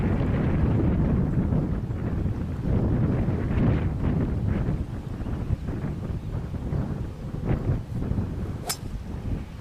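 Steady wind gusting across an open golf course, a loud continuous rumbling rush that buffets the microphone for the whole stretch, with brief rustles and no talk.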